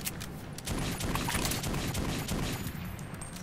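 Dense gunfire from the video game Metro 2033, a loud sustained barrage of rapid shots filling the whole stretch with no pauses.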